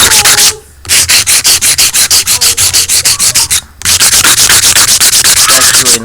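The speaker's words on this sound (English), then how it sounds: "But if I scrape that, I scrape it clean." A 3D printed part scraped clean with rapid, loud, rhythmic rasping strokes close by, broken by two brief pauses, with no talking.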